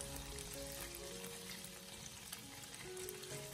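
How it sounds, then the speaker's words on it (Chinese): Tofu slowly pan-frying over low heat until golden for a cabbage and tofu casserole gives a steady, even sizzle that runs throughout, close and moderately loud, with no talking. "我们开小火给它持续的慢煎2、3分钟，煎至底部金黄色以后"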